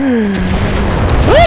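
Gunfire in the World War II shooter Enlisted: loud, close bursts and booms blend into a continuous roar, with a sliding, whining voice-like tone riding on top near the end.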